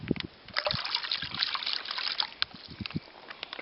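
Water trickles and splashes into a bag in short uneven pours and gurgles, close and fairly loud, with brief pauses between spurts.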